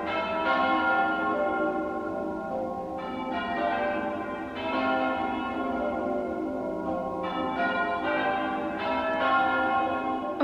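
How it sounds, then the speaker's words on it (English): Church bells ring for a Remembrance Sunday service, a continuous peal of overlapping strikes heard from a house nearby, moderately loud and steady with no voices. "It's one of the things I love most about living in this house is listening to the church bells."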